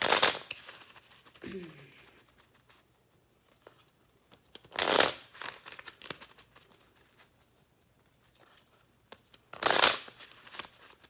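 Three separate riffle shuffles of a deck of cards, each a short crisp burst of fluttering, spaced a few seconds apart in a quiet room.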